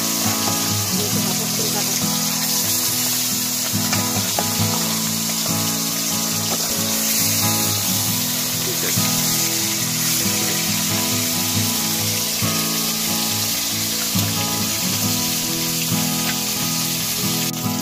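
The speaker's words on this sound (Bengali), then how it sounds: "এই কাঠের জালে কিন্তু তেল গরম হয়ে গেছে, সর্ষে তেল দিয়ে ভাজি আমরা। হ্যাঁ, এই যে মাছ ছেড়ে দিচ্ছি।" Tilapia fish sizzling and frying in hot mustard oil over an outdoor wood fire in a village kitchen, a loud continuous crackle that holds steady throughout, with no talk over it.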